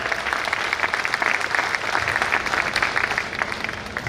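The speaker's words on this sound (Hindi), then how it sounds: "तो हृदय से दोनों हाथ से जोरदार तालियों स्वागत करिए उनका" Audience applause at a public gathering in Pandit Deendayal Upadhyay Nagar, Chandauli: dense, sustained clapping from a large crowd, loud and steady throughout with no break.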